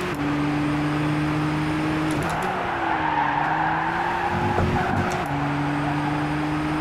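Race car engine at full throttle in the Gran Turismo 6 video game, a loud steady high-pitched drone with gear-shift dips and a brief tire squeal, continuous throughout with no talk.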